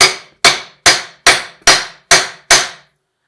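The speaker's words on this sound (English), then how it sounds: "Now we're gonna hammer a bit on the shaft and see if it moves." Seven sharp, ringing hammer blows on a Ford Focus front axle shaft, evenly spaced about every 0.4 seconds, loud and close, with quick decays and no talking.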